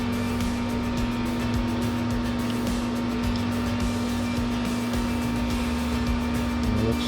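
A power tool, likely a router, runs steadily and loudly while cutting a 0.05-inch-deep channel into a guitar neck for a pearl inlay, holding a constant tone with a strong whine throughout and no breaks.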